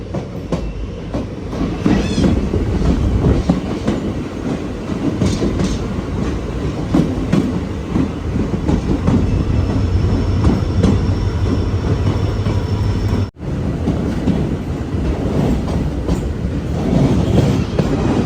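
A Madurai to Guruvayur Express sleeper coach runs along the route near the Tamil Nadu–Kerala border tunnel, giving a loud, continuous rolling rumble with rhythmic wheel clatter and a brief sharp break in the sound near the end.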